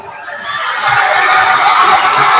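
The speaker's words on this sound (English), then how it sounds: "Crowd getting as loud as they've been this entire season." A crowd in a gym at a high-school basketball game cheers loudly, a dense, sustained roar that swells and holds steady throughout, with no individual voices standing out.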